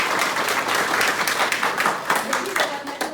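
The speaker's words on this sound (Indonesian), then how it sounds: "Tepuk tangan saya." A lecturer claps her own hands during a teaching session, a run of close, sharp claps in an uneven rhythm that pauses and then starts again, with voice-like sound mixed in.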